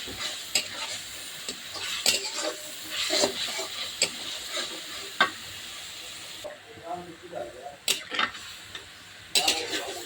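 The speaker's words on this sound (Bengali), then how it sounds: "মাছ দিয়ে দিয়েছি, মাছ উঠিয়ে পরে তরকারি দিয়ে দেবো" Fish sizzling steadily in a frying pan for a Bengali home-cooked dish of small fish and shol fish with cauliflower, with scattered clinks and scraping stirs breaking through the hiss and a brief quieter pause near the middle.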